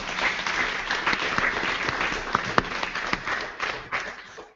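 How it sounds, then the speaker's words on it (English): Steady applause from a conference audience at a Caribbean startup summit, dense clapping filling the room for several seconds with a few sharper claps standing out, no voices over it. "Please give them a round of applause"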